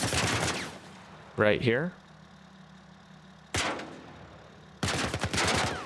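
Sharp bursts of heavy machine-gun fire from an armored truck in The Last of Us Part I, coming in separate loud volleys between stretches of quiet, with someone talking over the start and the end.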